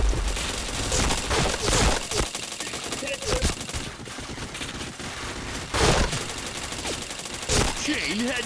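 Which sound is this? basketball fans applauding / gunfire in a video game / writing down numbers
gunfire in a video game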